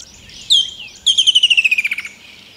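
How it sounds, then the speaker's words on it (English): A woodland kingfisher calling in Kruger National Park: a sharp single note, then a rapid descending trill of about a dozen bright, loud, close notes. "I'm sure you've noticed the call of the woodland kingfisher throughout the three-part series."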